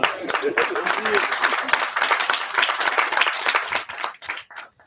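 Audience applause at a commissioning ceremony for the Clarks Town ramp and pump station, with dense clapping held steady for about four seconds before tapering off, and voices audible in the crowd.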